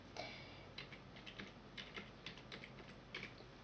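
Keys on a computer keyboard tapped while a password is entered, a quick irregular run of light clicks in short bursts, close and fairly quiet, with no voices.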